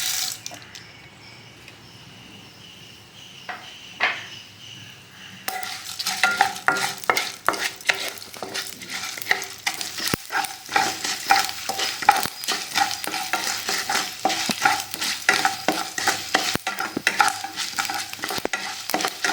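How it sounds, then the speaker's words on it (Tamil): After a quiet start, a loud crackling sizzle of mustard seeds and dried chilies frying in hot oil, popping and spattering continuously with occasional stirring. "இப்போ நம்ம கடுகு தொகுத்து காஞ்ச மிளகாய் ஆட் பண்ணிக்கலாம்"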